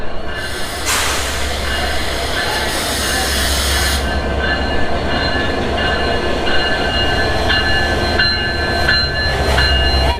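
An express train from Jessore pulls into a station platform, a loud continuous rumble of wheels and carriages with a deep low drone, high squealing tones and bursts of hiss, steady throughout with no talk.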